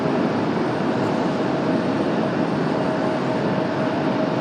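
A Southwest airliner taxiing out toward runway 23 left at Raleigh-Durham airport, a steady broad engine roar with a faint high whine, constant and moderately loud.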